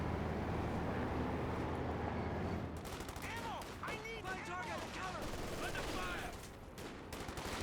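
Pack howitzer artillery fire in the Company of Heroes 2 video game rumbles loudly amid a dense battlefield mix of gunfire and explosions, with a commentator talking over the continuous, layered combat noise.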